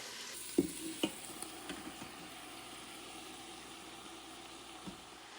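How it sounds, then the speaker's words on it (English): Collard greens hit a pan of softened, sizzling onions and garlic, with a few sharp thumps and rustles as they land, then a steady quiet frying hiss, close with no talk. "The onions and garlic have softened, so now I can add the collard greens"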